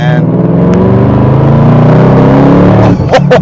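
A 2013 Mustang Shelby GT500 with a TR6060 manual shifter revs steadily under acceleration, a loud close engine drone with a brief break near the end as a gear changes.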